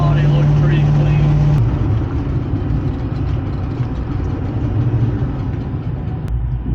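A Ford Fox Body Mustang engine idles as a close, steady rumble, its high idle dropping to a lower one partway through, with someone talking over it.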